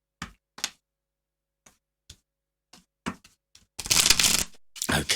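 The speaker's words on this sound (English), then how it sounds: "Okay, now that's a good shuffle." A deck of tarot cards is shuffled close by. Scattered crisp taps and riffles come first, then a dense burst of flicking cards and another short riffle near the end.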